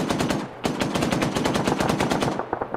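Rapid automatic gunfire in the military shooter Arma 3, a dense, loud burst of regular shots that breaks off briefly and then resumes, continuing steadily to the end with no voices.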